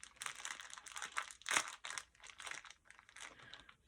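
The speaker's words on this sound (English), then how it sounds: "Sorry about the crinkling." Craft materials for a new journal crinkle and crunch in repeated close, quiet bursts, alone with no talk.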